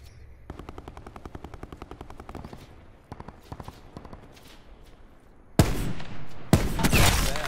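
Rapid machine-gun bursts and scattered gunshots in the battle royale shooter Call of Duty: Black Ops Blackout, a distant rattling volley followed by two loud, close sharp blasts with ringing tails near the end.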